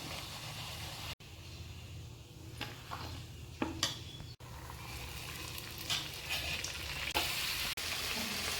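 Rolled puri dough sizzling and crackling in hot oil, a steady close frying hiss with a few brief clinks of a pan or utensil.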